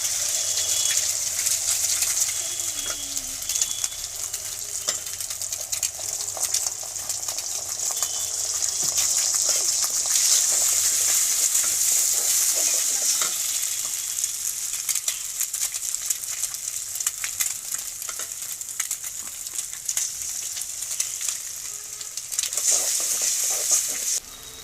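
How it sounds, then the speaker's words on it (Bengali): Three eggs sizzle and spit in hot oil in a kadai, a steady bright frying hiss running unbroken and fairly loud throughout, with no voices. "ডিমগুলো এরকম হালকা করে ফ্রাই করে নিয়েছি"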